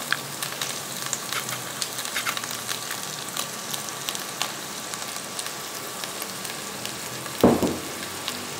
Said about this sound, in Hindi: अब इस मसाले को दही के साथ भून लें।